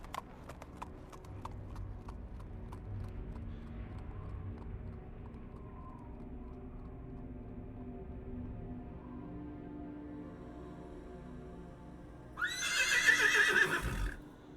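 Horse hooves clip-clop in a dainty, regular strut in the video game Sherlock Holmes: The Awakened, fairly quiet and close, closing with a loud whinny near the end.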